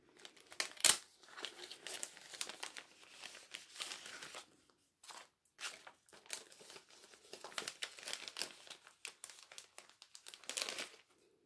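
Green polka-dot patterned paper is handled close up, giving irregular bursts of crisp crinkling and rustling with short quiet gaps, one sharper crackle early on.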